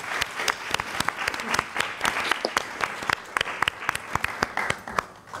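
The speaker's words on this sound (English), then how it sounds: "A big applause for all of you." Enthusiastic applause from a talk audience, with loud, distinct hand claps from nearby listeners standing out sharply over a steady bed of clapping for several seconds.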